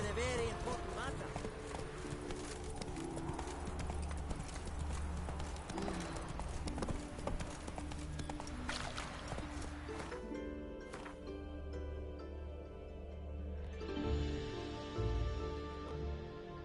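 Horse hooves clip-clop steadily through a PS4 video game scene, a continuous trotting rhythm layered with game music and ambience, with voices talking over it.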